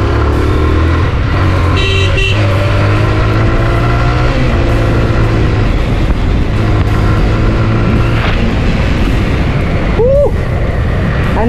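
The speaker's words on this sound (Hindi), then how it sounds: "एग्जॉस्ट नोट सुन लो" A 17-year-old Bajaj Kawasaki Wind 125 five-speed motorcycle runs on the road with a steady, continuous engine drone and exhaust hum, wind noise, and passing traffic with a horn toot, as someone talks over the ride.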